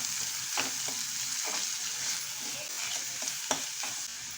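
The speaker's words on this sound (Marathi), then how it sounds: "आता ह्या तेलामध्ये आपण ॲड करायचं आहे कांदा." Two large, finely chopped onions hit hot oil in a pan, giving a steady, close sizzle with a few soft stirring clicks and scrapes through it.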